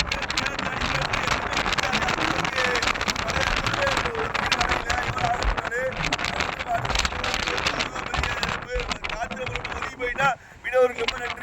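Strong storm wind roars and buffets across Pamban island during stormy rain, a dense, continuous rush of noise with gusts and microphone buffeting, sustained loud throughout with brief dips near the end.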